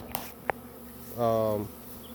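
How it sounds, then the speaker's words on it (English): Honeybees swarming out of a hive box: a short, close buzzing drone rises for about half a second after a couple of faint taps. "when I walked to the box, the bees were swarming out of it"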